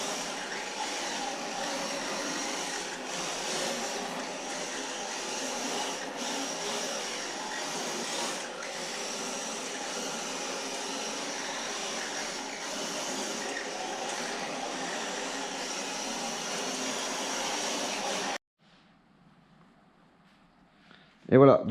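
An RC drift car spins its wheels to heat the tires, producing a sustained whirring roar that runs for about eighteen seconds, stops abruptly, and is followed by near silence and a brief loud burst at the end.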